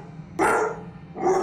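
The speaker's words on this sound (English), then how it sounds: "barking at something in the woods" A dog barks at something in the woods, two loud, close, sharp barks about a second apart over low background noise.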